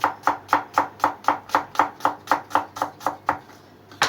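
A knife slicing onions into julienne strips on a cutting board, about fifteen evenly spaced crisp chops in a steady quick rhythm, close and loud, then a short pause before one more cut.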